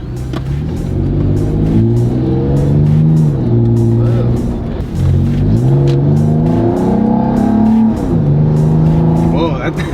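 Car engine fitted with a cold air intake accelerating from a standing start, a steady loud rumble with rising and falling gear-change sweeps throughout, with a voice talking over it.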